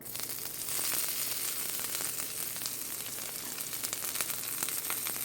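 Diced onions fry in a pan for Ghana-style egg stew, giving a soft, continuous sizzle with scattered crackles, fairly quiet and close, with no voices.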